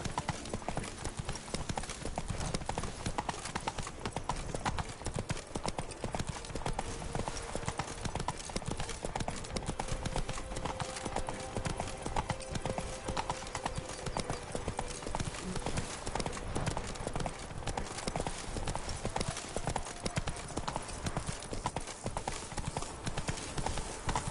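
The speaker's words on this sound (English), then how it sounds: "Not so fast, Roach" Horse hooves clip-clop steadily throughout in The Witcher game, a continuous rhythmic trotting at moderate loudness with music and ambient sound beneath and an occasional brief voice.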